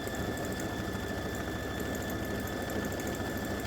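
An embroidery machine stitches a patch in maroon thread, running as a steady mechanical whir with a fast regular rhythmic chatter, constant in level and heard alone without talk.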